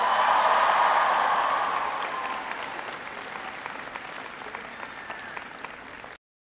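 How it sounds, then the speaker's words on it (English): A crowd at a college affordability rally in Michigan applauds members of Congress. The clapping starts loud and full, then gradually thins and softens before cutting off abruptly. "Give them a round of applause."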